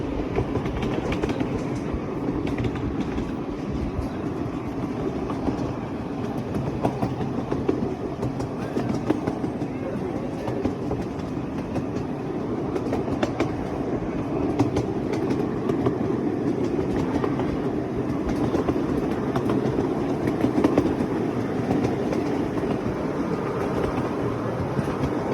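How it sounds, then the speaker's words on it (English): A moving train on the Burnaby central railway, its steady rumble and rhythmic clickety-clack of wheels on rails continuous and close throughout. "On a ride on a train"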